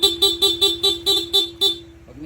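Stock horn on a Honda ADV160 scooter honked in rapid repeated beeps, about seven short evenly spaced bursts, loud and close, before trailing off.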